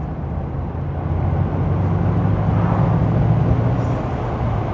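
A car fitted with a K&N cold air filter pulls hard through the gears, a steady, loud engine drone with road roar that holds throughout, heard from inside the cabin.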